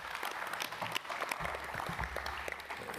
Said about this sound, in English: a last round of applause to our scientific chair